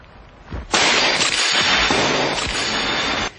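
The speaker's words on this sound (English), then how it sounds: "So let's break more windows." A glass window breaks with a sudden loud crash, followed by about three seconds of sustained shattering and tinkling debris close by, with no voices.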